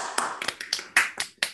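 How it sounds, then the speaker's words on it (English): A small online audience claps after a talk, a handful of sharp, uneven claps scattered over a second and a half, close and distinct with no talk. "So please go ahead and unmute yourself and let's clap."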